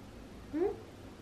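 A single short, faint meow from one of three cats being cared for at home, brief and quiet against a still background.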